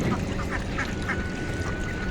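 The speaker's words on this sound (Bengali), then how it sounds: "এই জায়গায় প্রায় পঁয়ত্রিশটার মতো হাঁস আছে" Around thirty-five ducks in an enclosed indoor duck farm give repeated quacks over a constant, dense background noise, with a faint steady tone running through.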